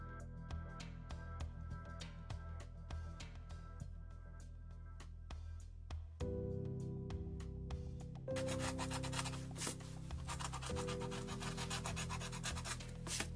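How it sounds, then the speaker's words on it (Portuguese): A sanding block rubs back and forth along the edges of book boards during the restoration of an old book, a soft, steady scraping that comes through faintly under an ongoing music bed. "Aqui eu estou usando um bloco de lixa para limpar as bordas destas tábuas."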